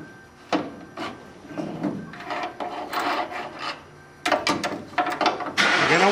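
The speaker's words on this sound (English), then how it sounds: "Now with a pry bar, remove the bolt." Metal scraping, knocking and rasping from a pry bar working a lower control arm bolt loose in an auto shop, a series of uneven bursts with a louder clang near the end.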